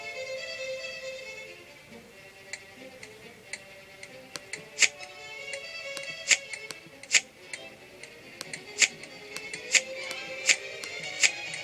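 Keys clatter in irregular, sharp clicks on a keyboard during a typing video game, scattered taps growing denser and louder toward the end over a faint background hum.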